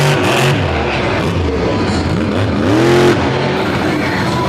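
Race cars at an All Stars event at Lake Erie roar loudly around the track, with engine notes rising and falling as several cars pass and rev close by.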